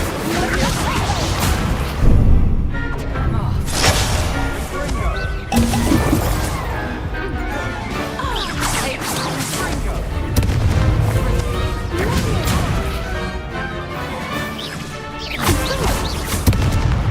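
Incendio fire spell effects from the Hogwarts Legacy video game, with repeated booming, whooshing and shattering blasts recurring every few seconds over a busy, loud backdrop of duelling magic.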